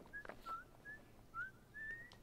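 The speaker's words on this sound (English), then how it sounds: "I'm whistling." Short tuneful whistled notes in The Last of Us video game, five or six clear rising and falling chirps in a quick melodic phrase, faint and close against a quiet background.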